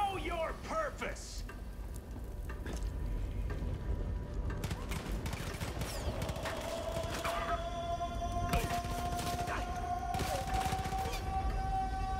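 Rifle fire from an AK in Far Cry 5, a steady burst of sharp shots running throughout over game ambience, with a held electronic tone and a voice talking underneath.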